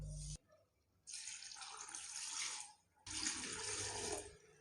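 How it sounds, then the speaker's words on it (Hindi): Tap water runs into a pressure cooker holding tripe in two steady bursts separated by a short pause, a close, hissing splash in a home kitchen. "इसमें हम 1 किलो के करीब पानी डालेंगे"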